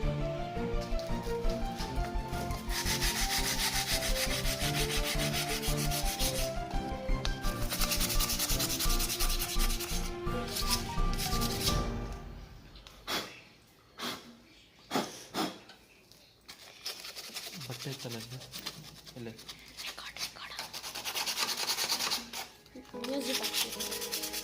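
150-grit sandpaper scrapes back and forth over metal on a Suzuki Fiero motorcycle in long, rhythmic strokes, then switches to shorter, uneven rubbing bursts with brief pauses.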